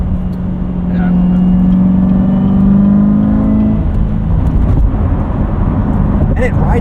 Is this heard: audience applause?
no